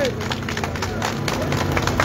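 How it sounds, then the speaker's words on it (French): Crowd applause at a gathering in Paris near the Bastille, dense continuous clapping from many hands, fairly distant and even, with some crowd murmur underneath. "Donc on peut applaudir cette grande dame"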